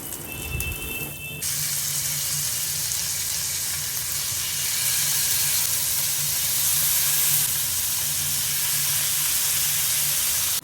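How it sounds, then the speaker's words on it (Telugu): Green chicken tikka sticks fry in butter in a pan, giving a continuous, loud, even sizzle that holds steady for the whole stretch after a brief noisy start, with no talking. "ఇలాగా SIM to medium flame adjust చేసుకుంటూ 10 to 15 మినిట్స్ ఫ్రై చేసుకోవాలి"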